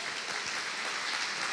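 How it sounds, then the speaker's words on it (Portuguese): A church congregation claps for Jesus in a steady, dense burst of applause that fills the sanctuary throughout, with no voices standing out. "Vamos aplaudir Jesus por isso?"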